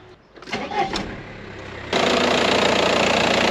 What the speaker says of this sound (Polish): Teraz idziemy odpalić samochód.